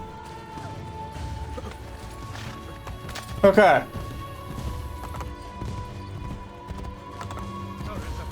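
Hoofbeats clip-clop steadily at a quick pace while a horse gives a short loud whinny midway in Assassin's Creed Brotherhood; a voice speaks briefly.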